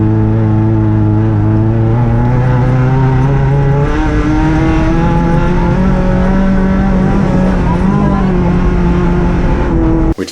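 Subaru GC8 rally car at full race pace on a stage, passing a heavy turbo diesel Mercedes; a loud, close engine drones and climbs through gear changes, steady and unbroken for about ten seconds.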